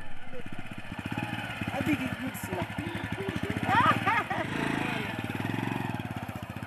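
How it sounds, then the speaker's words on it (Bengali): A motorcycle taxi's engine idles and putters steadily in the background beneath continuous narration, with a brief rise in level near the middle. "জেনিফার সেজন্য একটি মোটরসাইকেল ট্যাক্সি ডেকেছেন।"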